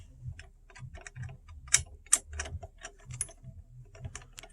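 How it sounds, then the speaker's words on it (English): Allen wrench tightening screws on a Graco Dreamglider seat frame: a quick series of close, light metallic clicks and ticks, irregular in rhythm, with a couple of sharper snaps, no voices. "Take your Allen wrench."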